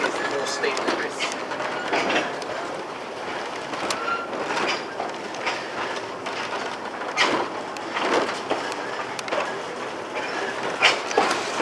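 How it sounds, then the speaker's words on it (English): A train on the Sittingbourne and Kemsley Light Railway rolls past with rhythmic clickety-clack and rattling wheel noise, heard under people talking nearby. "as you can hear now, it's the classic Sittingbourne and Kemsley Light Railway"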